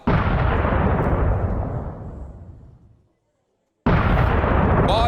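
Explosion or artillery blast from the Bakhmut battle in the Ukraine-Russia war, a loud roaring boom decaying over three seconds into silence before another sharp blast cuts in.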